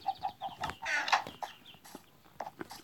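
Short clucks from a chicken in the video game Minecraft, a few bursts scattered over a few seconds amid quiet game sounds, with no talking.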